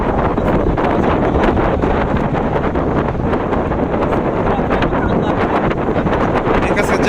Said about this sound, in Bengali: প্রচুর বাতাস